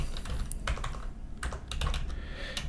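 Someone types on a computer keyboard. The key clicks come quick and irregular, soft and close, with no talking.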